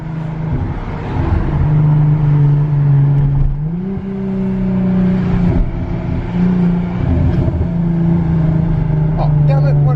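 Loud, raspy exhaust note from a straight-piped Jaguar F-Pace S heard from inside while driving, droning steadily and rising in pitch as it accelerates, with a brief dip and shift around the middle and occasional voices in the cabin.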